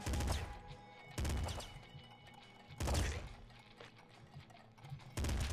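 Assault rifle in the video game Nuclear Throne firing triple-shot bursts: four loud, sharp volleys at irregular intervals, each a short crackling cluster of shots over a low game background.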